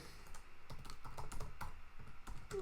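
Quick, close clicking of keystrokes on a computer keyboard, a dense irregular rhythm of light taps with no talking.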